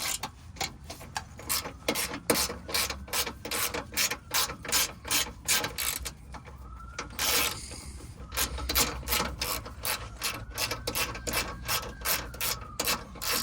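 A ratchet tightens a bolt on a car heat shield in a steady run of quick, crisp clicking strokes, close and loud, pausing briefly midway before resuming.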